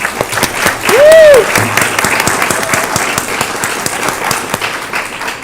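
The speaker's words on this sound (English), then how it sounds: "I think we should give him a round of applause." Applause at a school board of education meeting for a student member who chairs a committee, a steady patter of clapping running the whole stretch at moderate level with a brief tonal sound near the start.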